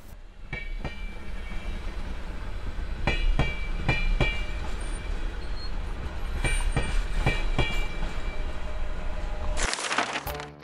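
A cartoon train with wagons rolls along with a steady rumble and occasional clickety-clack of wheels, ending in a brief burst of noise.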